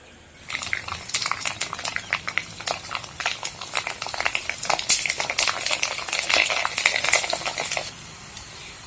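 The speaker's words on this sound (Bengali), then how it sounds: "তেলটা গরম হওয়ার পর একটা পাঁপড় আমি কড়াইয়ের মধ্যে দিয়ে দিচ্ছি।" A papad made of flour fries in hot white oil in a wok. Dense crackling and sputtering start suddenly and keep going steadily at close range, with no talking.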